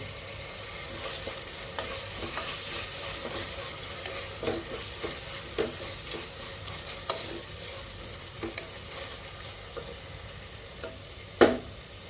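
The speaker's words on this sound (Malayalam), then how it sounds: "തക്കാളി ചേർത്തിട്ട് നന്നായിട്ട് വഴറ്റുക" Tomatoes sautéing in a pan for a beef curry give a steady soft sizzle, with occasional scraping stirs and a sharper clink of the spatula near the end; no voices.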